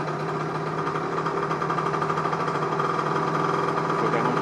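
A Derby AM6 moped engine idles steadily during PHVA carburettor tuning, with an even, close, continuous rumble and buzz that holds at one pitch throughout.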